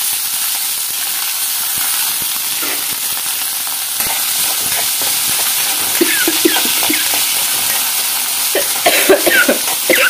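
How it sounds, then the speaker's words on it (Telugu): A few coughs break out over the steady hiss and sizzle of dry red chillies and veldt grape frying in oil in a home kitchen, with stirring throughout. "ఎండుమిరపకాయలు కదా దగ్గు వస్తుందండి కొంచెం"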